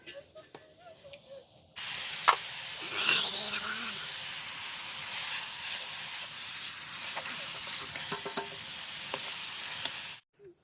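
Whole spices and cumin hit hot oil in a pan and break into a loud, steady sizzle that runs for about eight seconds, with a few stirring clinks, then cuts off abruptly.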